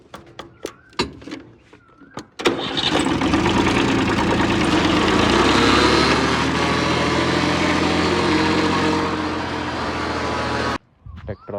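A tractor engine runs at a steady idle, a loud low rumble that starts abruptly after a few seconds of knocks and thuds, holds for about eight seconds, then cuts off sharply.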